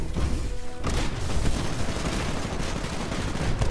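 Heavy incoming gunfire in the sci-fi shooter Titanfall during an Attrition match, a relentless rattle of shots and impacts that fills the scene from start to finish, loud and close with no talk.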